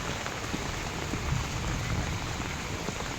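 Steady monsoon rain falls heavily and evenly, a dense unbroken hiss of drops on surfaces that fills the whole stretch with no voices.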